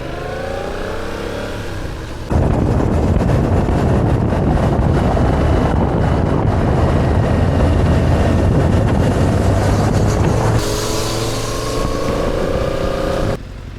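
A motorcycle rides along a road on a trip from Tokyo to Izu, with a loud, steady engine drone and heavy wind rush across the microphone that swells partway through and then drops back.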